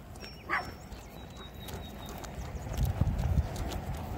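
Dog barking outdoors near a lakeside street light, a few faint yips off in the distance over low rumbling noise and scattered clatter.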